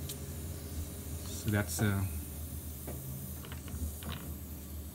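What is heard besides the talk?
water pressure hissing out of disconnected water softener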